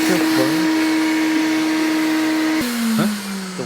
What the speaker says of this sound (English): No, the vacuum.